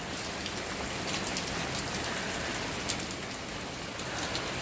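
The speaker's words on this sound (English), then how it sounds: "Well, it's slowing down a little, but we just had some major hail." Steady heavy rain during a hail storm makes a dense, even hiss on surfaces, with scattered sharper taps and no talking.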